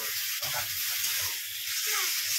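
Chicken sizzles and hisses loudly in a hot pan as it is stir-fried, a dense continuous crackle with soft scraping from the stirring and no voices.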